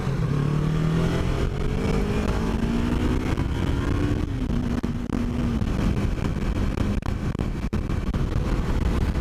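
Yamaha R3 motorcycle engine droning steadily and loud while riding and lane splitting in traffic, pitch rising and falling with throttle changes and wind noise throughout.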